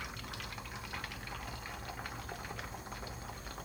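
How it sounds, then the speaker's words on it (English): Beaten eggs go into a hot pan for Chinese stir-fried tomato and egg. There is a steady, close bubbling sizzle of liquid with no pause over a few seconds. "So now we put the egg in now."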